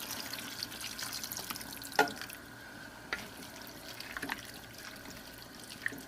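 Water is poured into a jar for canning, a soft running trickle with a few small clinks and splashes, fairly quiet and with no voices.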